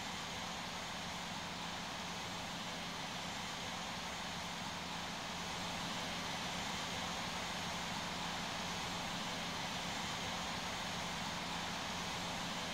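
An MD-11 jet airliner taxis to parking, producing a steady, broad engine roar that holds at a constant level throughout, with no speech.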